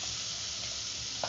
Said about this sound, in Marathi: हे मसाला वाटलेला आहे मस्त. त्याला मस्त शिजून घ्यायचं मसाल्याला